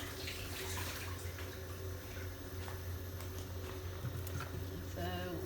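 A kitchen tap runs steadily while small onions and carrots are washed for chicken soup, a continuous moderate splash and trickle of water with no voices.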